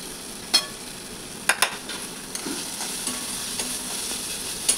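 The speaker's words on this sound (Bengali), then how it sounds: "এবার গুঁড়ো মশলাগুলো দিয়ে দেবো" Ground spices frying in a hot pan for a potol and prawn curry, with a steady low sizzle and a few sharp scraping stirs of a spatula.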